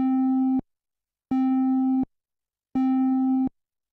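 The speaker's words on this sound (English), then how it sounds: "And we'll set the waveform to be a triangle wave." Three identical held synthesizer notes from a detuned triangle wave, soft-edged and slightly hollow in tone, each lasting under a second with even silent gaps between them.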